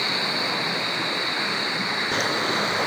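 A river flowing on its way toward Kitinday Falls, a steady broadband rush of water filling the whole clip without pause, close and even.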